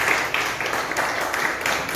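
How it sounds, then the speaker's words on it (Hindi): An audience at a business meeting applauds a guest, a steady dense wash of clapping from many people, moderately loud and without pauses. "सर के लिए एक और जोरदार तालियां"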